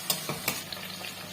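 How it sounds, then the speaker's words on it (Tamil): Chopped tomatoes and onions sauté in a hot pan for bisibelebath, a soft sizzle broken by a few scraping stirs of a spoon, close and without talk. "போட்டுட்டு தக்காளி கொஞ்சம் வதங்கட்டும்."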